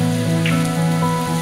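Heavy, steady rain falls on surfaces outside the chapel of San Marcos on a mountain-bike route along the Camino de Santiago, a loud, dense wash with no voices.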